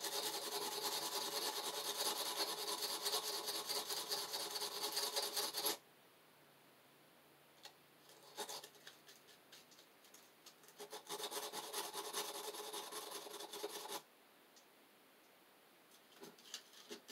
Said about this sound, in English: This is sandpaper for metal, so this would be perfect to use for this. So sand the inside.